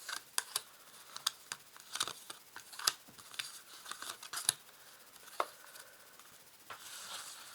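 Tarot cards being cut and dealt out one by one, a series of quiet, crisp card snaps and soft slides at an uneven rhythm, close and alone with no talking.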